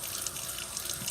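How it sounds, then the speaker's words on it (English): Tap water running steadily into a sink as acrylic paint is rinsed from Staalmeester brushes, a continuous close splashing hiss with no voices over it. "down in my sink until I start getting close to clear water"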